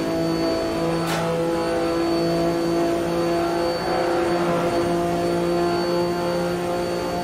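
Sports cars race in Automobilista 2, with steady engine drone and whine from several cars held constant throughout, close and fairly loud, no talk.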